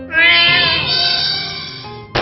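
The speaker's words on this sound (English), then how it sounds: "Foe Mayoneko used Meow." Mayoneko, a cat-like creature from the video game Manamon, lets out a single long, loud meow that wavers in pitch during a battle, followed by a short game sound at the end.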